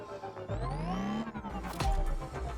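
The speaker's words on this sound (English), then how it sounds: "That's not how a Taycan sounds, right?" A Porsche Taycan electric car in the racing game The Crew Motorfest, accelerating with a rising engine-like whine that climbs in pitch, breaks off, then surges again, loud and close.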